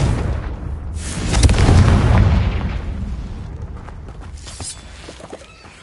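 A Confringo fire spell blast in the Hogwarts Legacy video game, a sharp loud explosion swelling into a heavy rolling boom that decays gradually over several seconds, with a smaller burst near the end.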